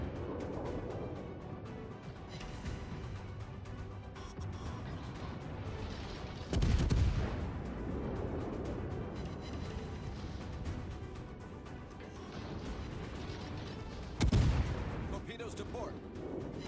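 Naval guns aboard a warship in a video game fire at an enemy ship; two heavy booming salvos several seconds apart stand out over continuous engine and sea rumble, with a voice talking throughout.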